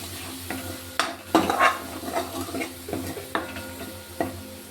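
A spoon stirs coriander powder and red chilli powder into a sizzling fish curry masala, with several scraping strokes and faint frying hiss running throughout.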